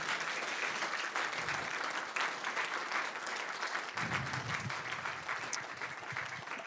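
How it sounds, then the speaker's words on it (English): A crowd applauds steadily for several seconds, the clapping dense and sustained at a fairly even level. "That's our first clap that we give."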